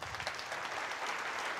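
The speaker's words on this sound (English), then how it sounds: "Applaudissements for James." Audience applause for a speaker at a software testing talk, a short steady patter of clapping from a crowd that stays even throughout.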